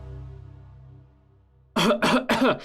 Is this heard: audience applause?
no